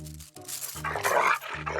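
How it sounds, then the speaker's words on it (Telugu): A dog in a comedy movie scene gives a few loud, close barks and whining yelps in quick bursts, with nothing else over it. "ఇది కరిచే కుక్క అస్సలు అరవదు"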